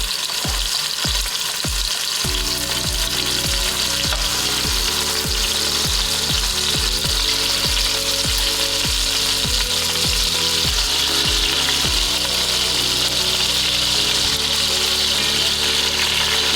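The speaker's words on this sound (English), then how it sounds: "you just want to brown the meat" Beef pieces for birria sizzle loudly in a hot pot while browning, a dense, continuous frying hiss with rhythmic clicks and scrapes from handling the meat.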